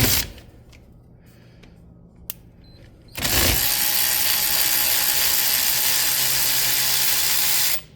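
A ratchet wrench with a 14 mm socket loosens front brake caliper bolts on a 2018-2021 Chevrolet Equinox 2WD: about three quiet seconds, then a loud, steady mechanical whir for several seconds that stops abruptly.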